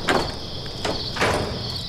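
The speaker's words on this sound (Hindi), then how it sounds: "दरवाजा खोल दो।" A door opens in a dubbed historical drama about Prophet Yousuf, heard as a few clunks and scraping slides over a steady high insect-like hiss, with no one talking.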